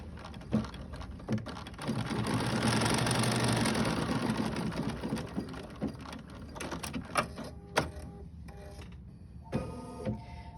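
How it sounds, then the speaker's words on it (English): Embroidery sewing machine stitching fabric in a quilting hoop, a steady mechanical whirring hum with rapid stitching patter that builds and runs continuously, then breaks into intermittent clicks and short bursts near the end. "I'm going to allow the machine to sew it down"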